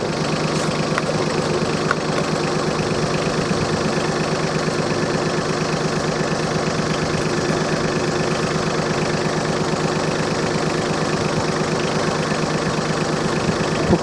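A tractor's diesel engine idles steadily throughout during a plough test on damp soil, a low rhythmic chugging with a faint knocking pulse, close and continuous with no voices.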